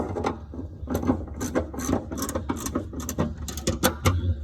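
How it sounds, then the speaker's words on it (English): Rapid clicking of a box ratchet turning bolts on a 1993 Jeep Cherokee during fuel pump replacement, close and steady bursts of ratcheting clicks with brief pauses. "I can just put the box ratchet on there"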